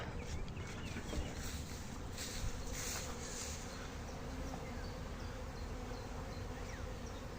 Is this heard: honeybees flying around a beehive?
yes